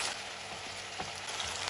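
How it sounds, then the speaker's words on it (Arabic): Onion, tomato, green pepper and parsley sizzle in a pan for a potato dish, a soft steady frying hiss with a few light scrapes of stirring, fairly quiet and without voices. "حركهم شوي مع بعض"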